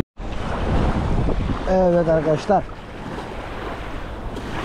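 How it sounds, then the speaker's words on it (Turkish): Wind buffets the microphone over a steady wash of surf at the shore while sea bass fishing in windy, wavy weather; someone speaks briefly in Turkish in the middle. "Şimdi dalga ve rüzgar bize doğru geliyor."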